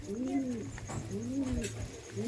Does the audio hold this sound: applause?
no